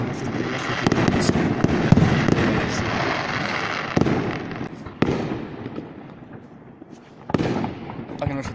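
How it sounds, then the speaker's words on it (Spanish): Fireworks rockets burst repeatedly at a summer town festival, with sharp loud bangs and crackling over a continuous rumble, while people talk nearby. "Y salen los cohetes."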